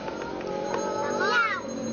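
Cats meow at an outdoor spot, a rising meow standing out near the end over steady background noise and faint voices.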